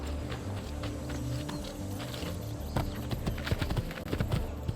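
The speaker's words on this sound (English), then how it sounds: "We're just gonna borrow a horse." Horse hooves clip-clop at a steady walking rhythm over a busy ambient background in the video game Assassin's Creed 2, growing louder and more distinct toward the end.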